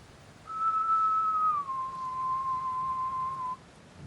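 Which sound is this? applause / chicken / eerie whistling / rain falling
eerie whistling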